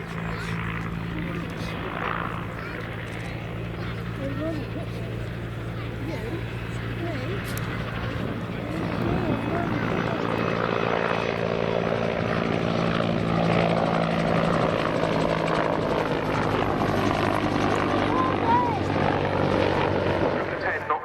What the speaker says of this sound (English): the incredible spectacle of the Bristol Sycamore, operated by the Flying Bulls in Austria.